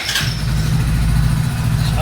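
A Hero Splendor motorcycle in neutral fires up and settles into a steady, close, loud single-cylinder idle with a constant low chug and a brief rasp at the start, with no talking.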